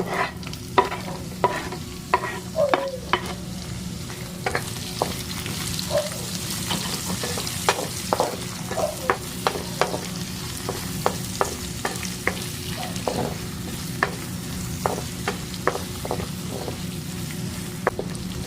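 Garlic with red and white onion sautés in a pan, a soft constant sizzle punctuated by frequent sharp stirring taps and scrapes, with no talk.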